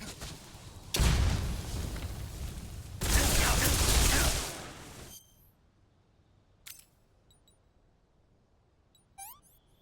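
A grenade goes off in Metal Gear Solid Delta: Snake Eater, a sudden loud broadband blast with a rolling, crackling tail that surges again and dies away after a few seconds, followed by near silence with a couple of small clicks.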